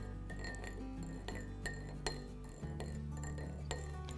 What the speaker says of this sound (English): we're going to stir it with our spoon